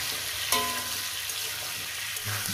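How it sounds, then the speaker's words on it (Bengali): Eggplant and green chillies fry in oil with potatoes in a pan, giving off a steady soft sizzle. A brief clink of a utensil comes partway through, and a low stirring scrape follows near the end. "এরপর দিয়ে দেবো বেগুন আর কাঁচা লঙ্কা দিয়ে এটাকে আমি 4 মিনিটের মতন ভেজে নেব।"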